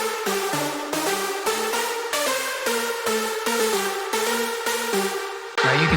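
A dry hardstyle background synth lead, unprocessed, plays a fast repeating pattern of bright, buzzy staccato notes over a bouncing low line, dense and continuous with no voice.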